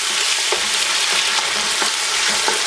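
Steady, loud sizzling of onions frying in a hot pan over high flame, with occasional crackles and pops over a continuous hiss.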